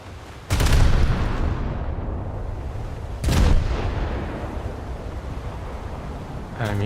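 Heavy naval guns fire in a World War II naval combat game, two big booming blasts a few seconds apart, each followed by a long rumbling roar over constant wind and sea noise.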